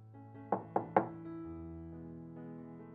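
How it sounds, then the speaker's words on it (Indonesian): Three quick knocks on a door, close and fairly loud, over a soft sustained musical backing. "ternyata yang mengetuk ialah si sulung, Jerry"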